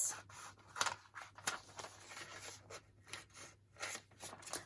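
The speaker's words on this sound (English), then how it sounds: "I wanted to fussy cut these things" Scissors fussy cutting around paper ephemera snippets from a neutral-tone book page, close, quiet snips and paper rustles in an irregular rhythm with soft rubbing between cuts.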